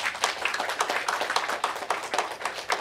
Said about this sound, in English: Can we just clap for a moment?